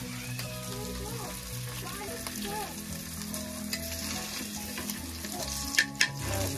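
Dried fish fries in oil in a pan over a wood-fired clay stove, with a steady close sizzle and the scrape of stirring. A voice is faintly audible, and a couple of sharp clatters come near the end.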